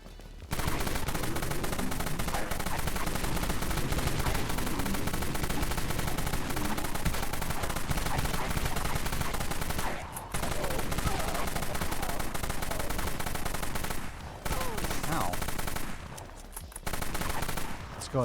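Dusk AR assault rifle fired in the Dead Frontier shooter game, sustained rapid automatic gunfire rattling almost without pause, with brief gaps between long loud bursts.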